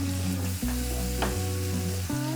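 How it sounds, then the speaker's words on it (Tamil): Masala being sautéed and stirred in a pan for Tamil-style fish pirattal, a steady close sizzle of frying with a low hum throughout and scraping stir strokes, no voices. "இது போல் கொஞ்சம் நேரம் வதக்கிக்கோங்க."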